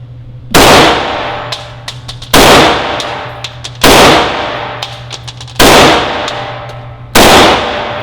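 Rifle shots at a shooting range, five loud sharp reports spaced about one and a half seconds apart, each with a ringing tail and small metallic clicks in between.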